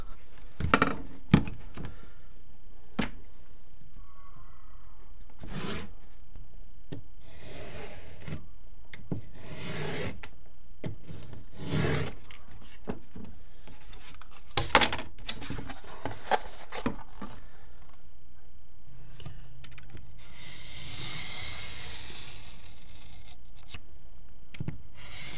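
Cutting pieces of material by hand for a homemade lens hood for a DSLR camera: repeated rasping, rubbing strokes in short bursts with pauses, close and fairly quiet, with a denser scraping stretch near the end.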